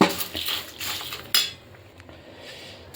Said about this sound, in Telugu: ఇలా అటుకులు వేసేసుకుని బాగా కలిపేసుకుందాము.